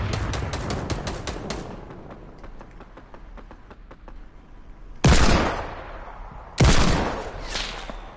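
Desert Eagle pistol shots in a shooting video game: two loud, heavy blasts spaced a second and a half apart, following a fading run of rapid automatic fire from another weapon.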